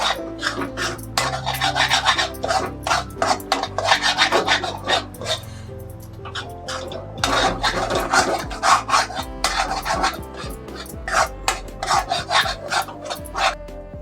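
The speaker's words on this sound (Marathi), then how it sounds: "आता हे सगळं जरा ढवळून घेते." Eggs being stirred in a pan for egg rice, a close rhythmic scraping and rasping of a utensil against the pan in repeated strokes, with a short pause partway through.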